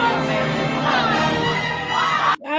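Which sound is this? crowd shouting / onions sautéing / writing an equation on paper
crowd shouting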